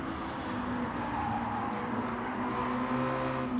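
Mazda race cars in the Mazda Challenge at Autopolis produce a steady, droning engine whine that holds a constant pitch, with no voices over it.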